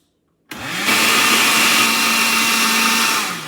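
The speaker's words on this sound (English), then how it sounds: "right now it's blending really nice" A blender blending watermelon starts after a brief silence and runs steadily, a loud continuous whirring motor with a hum, close by and without talk.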